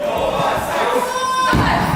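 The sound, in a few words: wrestling event crowd reacting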